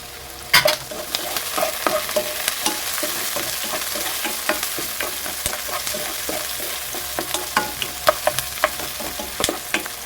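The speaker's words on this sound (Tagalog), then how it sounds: "maggisa na lang muna tayo ng sibuyas, luya at kamatis" Onion, ginger and tomato sautéing in a pan for an Ilocano buridibud dish, with a steady close sizzle and repeated scraping stir strokes throughout, no talk.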